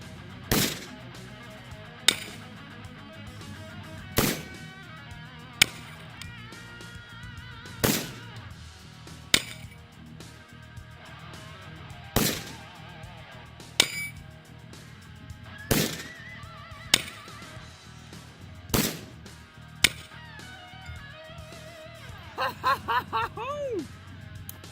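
A powerful gun fires repeatedly at a target outdoors, loud sharp single shots spaced a few seconds apart, followed by a quick cluster near the end, with people talking between shots.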